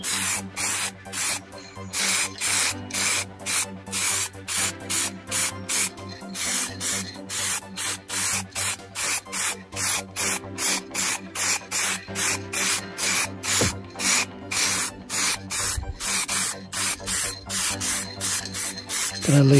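An aerosol can sprays red paint over silver on a 3D-printed life-size Captain Carter shield, a continuous close hiss broken by short rhythmic pauses between passes.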